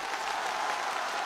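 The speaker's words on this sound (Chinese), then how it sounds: "掌声送给他" A crowd at an outdoor patriotic singing event in a public square, a police-themed show, breaks into a brief burst of dense, continuous applause that stays steady and fairly loud.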